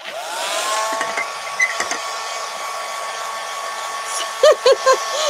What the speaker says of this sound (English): get that dreaded heat gun back out